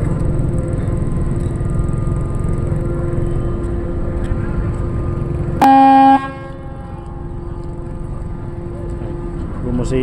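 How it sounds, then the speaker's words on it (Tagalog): A ferry's horn gives one loud, steady blast lasting about half a second as the ship departs the port, over a continuous low engine rumble. "Bumusina na."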